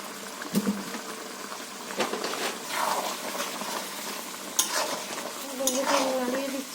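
A hilsa fish oil eggplant curry being stirred in a pan: scraping spoon strokes over a steady sizzle of frying oil, close and moderately loud, with no talk.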